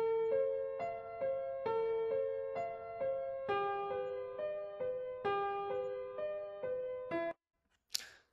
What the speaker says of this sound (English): we're going to be using a piano sound that sounds like this